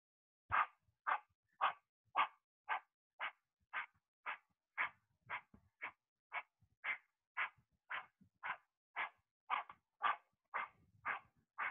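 A person imitating a panting dog with quick, rhythmic forceful breaths, about two per second, evenly spaced and fairly close.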